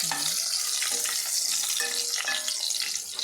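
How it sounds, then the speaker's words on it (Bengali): Eggplant pieces fry crisply in hot oil, a continuous bright sizzling hiss with small crackles and faint scraping, close and fairly even in loudness. "এইভাবে কড়া কড়া করে বেগুনগুলো ভেজে নিচ্ছি"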